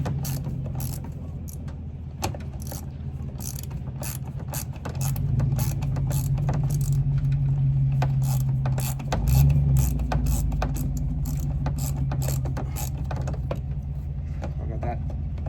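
Ratchet turning loose the screws on a car's side marker light, with clicking pawl ticks repeating close up over a steady low hum and mechanical rattle, no talking.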